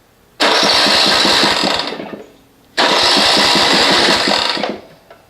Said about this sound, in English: let me crank it up. Now this is a dead cold start.